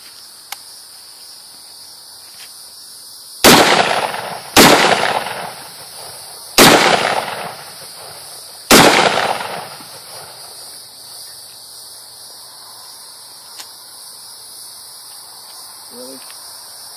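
Four loud, sharp shots from an M1 Garand and an M1 Carbine ring out outdoors at uneven intervals, each followed by a short echoing tail, with insect chirping steady in the background.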